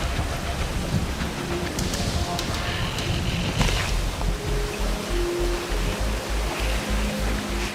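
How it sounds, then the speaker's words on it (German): Rushing glacier meltwater whitewater on a river run at about 5 degrees, a steady broadband roar of churning rapids filling the clip with continuous, close, loud turbulence. "Es ist Wildwasser"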